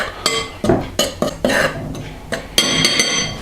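Salt and pepper being mixed into flour for dredging beef cubes, heard as a run of sharp clinks and scrapes of a utensil against a bowl at close range, coming in uneven bursts with no talking.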